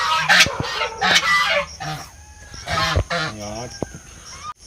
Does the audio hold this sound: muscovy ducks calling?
yes